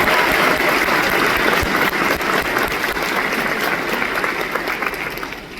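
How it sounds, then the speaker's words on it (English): Loud, sustained applause from a crowd at a high school graduation, honoring teacher Mr. Nordam, a thick wash of clapping that holds steady and tapers slightly near the end. "If we could give him another round of applause."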